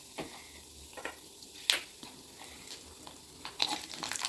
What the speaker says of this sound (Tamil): நம்மளோட தாளிப்பெல்லாம் நல்லா பொரிஞ்சிருச்சு